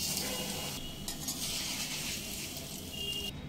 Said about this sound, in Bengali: চিড়ে ভাজতে খুব অল্প সময়ের মধ্যে চিড়ে ভাজা হয়ে যায়